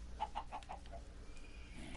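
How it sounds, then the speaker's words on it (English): A chicken in a video game clucks in a quick run of about five short, faint clucks, followed by quiet background ambience. "That's the sound of a chicken."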